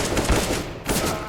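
Rapid bursts of gunfire from Counter-Strike: Global Offensive gameplay come in two loud clusters close together, with no voices over them.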